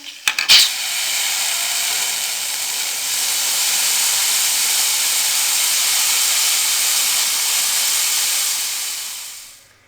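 A pressure cooker of mixed vegetable curry lets out a long, steady, loud hiss of steam once its weight is lifted, preceded by a brief metallic clink, and the hiss fades out at the end.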